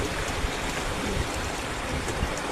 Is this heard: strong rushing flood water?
yes